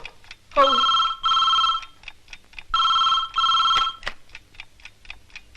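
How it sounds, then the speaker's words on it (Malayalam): A bell-type telephone rings in two double bursts, each a bright trilling jangle, with a clock-like ticking between and after the rings. "ഇതേതാ ഇപ്പൊ ഒരു ഫോൺ?"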